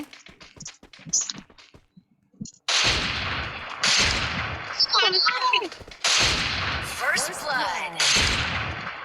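Loud, sharp gunfire bursts from the video game Free Fire repeat rapidly and steadily after a quieter start, with excited voices talking over the shooting.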